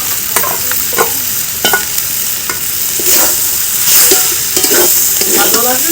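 A spoon stirring banana flower curry mixed with ground Gobindobhog rice paste in a hot pan, with soft scraping strokes repeating about every half second over a steady sizzle, and no talking.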